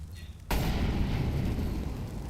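A grenade goes off in Counter-Strike during a tight bomb-site retake, one sudden loud blast that then trails into a sustained rumbling decay.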